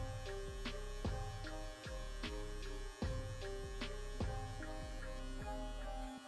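Electric hair clippers buzz steadily while cutting a fade, a close, constant drone broken by short dips and surges as the blades pass through the hair.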